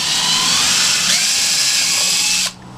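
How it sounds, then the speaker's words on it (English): A power drill bores a hole for a deck pad eye rivet in a kayak deck, its steady high-pitched whine running loud and close for about two and a half seconds before cutting off abruptly. "that is how I'm marking the hole for where I'm putting my next hole, drilling my next hole."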